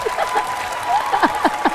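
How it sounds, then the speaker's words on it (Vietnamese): A studio audience at a Vietnamese television singing show claps in a brief, fairly loud burst of applause with some tonal sound mixed in. "Một tràng pháo tay."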